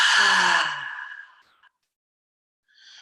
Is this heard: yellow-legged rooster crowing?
no